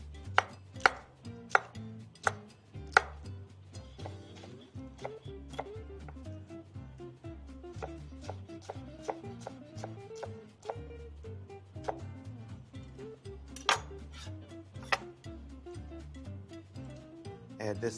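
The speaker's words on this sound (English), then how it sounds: "just work your knife alongside the exterior of the pepper to remove the ribs, and the core will come out with it" A knife chops and dices bell pepper on a cutting board in sharp, close, fairly regular strikes that come in bursts, with low kitchen background between them.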